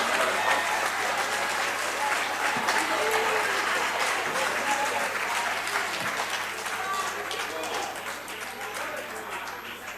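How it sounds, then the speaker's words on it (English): Parliament members applauding in a large chamber, a dense sustained wash of clapping from many hands that slowly fades over ten seconds, with faint voices beneath. "It is so discouraging to see old people clapping hands on issues that are actually what we are proposing"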